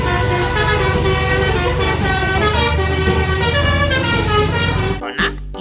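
A toy bus plays a continuous, bright electronic melody with horn-like beeping tones, fairly loud and close, before it cuts off abruptly near the end with a couple of soft thumps.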